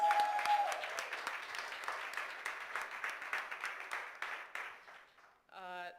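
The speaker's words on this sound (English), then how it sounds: "I would think he deserves an extra round of applause for the effort" A modest audience at a proptech innovation camp closing event applauds a bootcamp participant, with moderate, fairly quiet clapping that gradually thins out before a voice begins speaking at the end.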